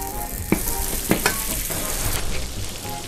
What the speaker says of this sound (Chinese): 好了，现在有热了，把饼放下去。